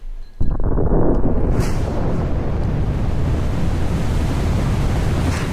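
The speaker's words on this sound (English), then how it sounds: "So there was some kind of explosion revealing something below." A heavy explosion in the 1996 video game Tomb Raider bursts in suddenly after a brief quiet moment, then rumbles on as a loud, sustained roar with a faint high whine above it.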